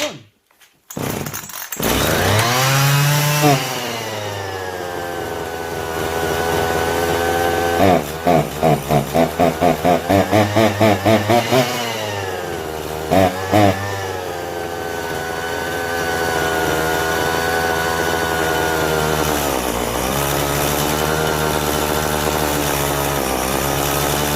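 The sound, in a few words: chainsaw engine starting and running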